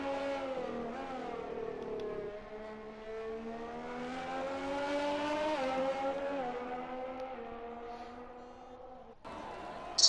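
Race car engine at Silverstone held long through each gear, a sustained harmonic whine that climbs steadily in pitch, then a brief shift dip before it rises again, loud and close, with commentary voices faintly under it.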